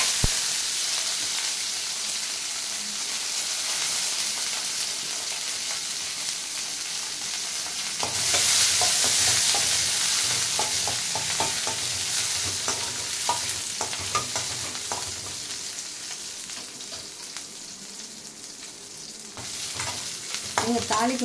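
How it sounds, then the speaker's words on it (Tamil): Mustard seeds, cumin and fenugreek frying in hot oil for a tomato sambar: a steady close sizzle that turns into a louder burst of spluttering and popping partway through, with stirring scrapes and no talk. "எண்ணெய் ஊற்றினதும் கடுகு, சீரகம், வெந்தயம் இதை வந்து இதில் போட்டுறேன்"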